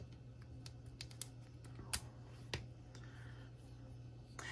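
A Trailblazer LifeCard .22 pistol's trigger snaps with a sharp click, among several light mechanical clicks and ticks, all quiet and close, with no talking.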